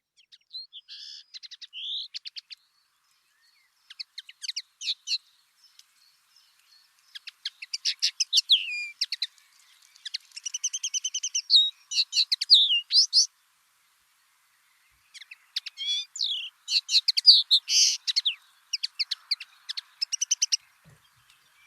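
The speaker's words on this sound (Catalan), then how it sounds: "Esta precisitat que canta també, i que és super guapet, és el que se diu passorell, per aquí, pardillo" A common linnet sings in open country with scattered trees, giving bright twittering phrases in bursts separated by short pauses, clear and fairly near against a silent background.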